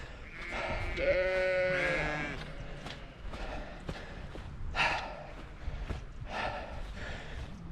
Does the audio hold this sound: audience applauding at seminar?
no